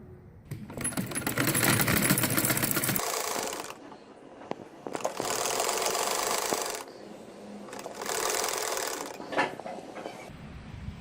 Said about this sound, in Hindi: इसके बाद अब मैं इसकी स्टिचिंग करने लगी हूँ